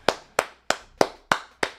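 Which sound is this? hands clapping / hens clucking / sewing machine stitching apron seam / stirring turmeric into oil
hands clapping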